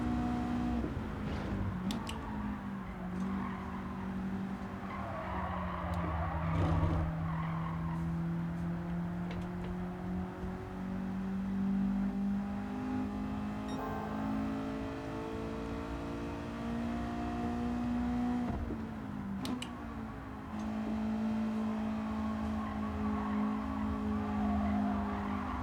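A race car in the Gran Turismo 7 racing game holds a steady, droning engine note that rises and falls, with tires skidding and squealing along the way and brief shifts in pitch through corners.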